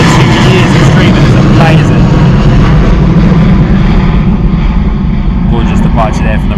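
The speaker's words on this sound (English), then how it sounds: "Gorgeous departure there from the Ryanair 737. Full noise on the engines there." A Ryanair Boeing 737 departs Bristol Airport at full engine power, a loud, sustained jet roar filling the whole clip, with a voice talking over the engine noise.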